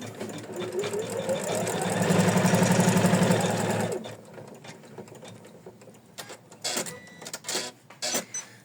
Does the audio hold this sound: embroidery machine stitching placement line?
yes